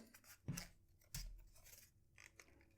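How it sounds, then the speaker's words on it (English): Scissors snip sellotape on a TWSBI Vac700R Iris fountain pen box, two sharp close cuts about half a second apart, then quieter rustling of tape and cardboard. "So I've just had to chop a little bit more sellotape."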